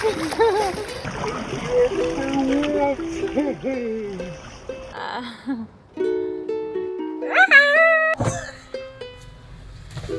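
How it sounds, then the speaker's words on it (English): Floodwater on a street in Maui rushing past a parked van like a river, a continuous sloshing roar under loud, excited talking. "There's a river going past my car."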